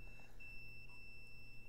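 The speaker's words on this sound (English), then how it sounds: "my continuity tester" A continuity tester gives a steady electronic beep, a faint high tone that holds almost without pause through the moment, alone over low background hum.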